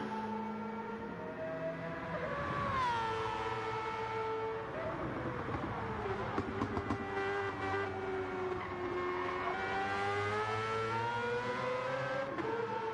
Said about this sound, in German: Das Auto hörst du echt über die ganze Nordschleife schreien